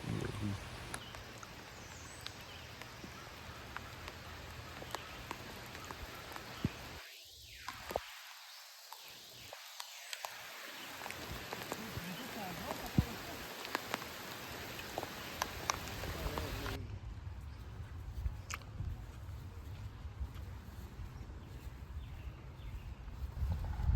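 Heavy rain pouring down on a golf course, a dense, even hiss of falling water that continues for the whole stretch, with brief quieter dips and a few faint bumps nearby.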